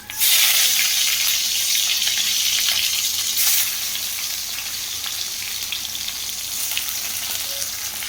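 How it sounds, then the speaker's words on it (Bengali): Singi fish frying in oil, a loud hissing sizzle that flares strongly at the start and then settles into a steady, slightly softer crackle. "চলো মাছগুলো ভেজে নিই।"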